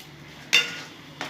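A spoon clinks and scrapes against a pot while sugar is stirred into potol ghonto, a vegetarian pointed gourd curry; one sharp stroke is followed by a fading scrape and a second, softer clink.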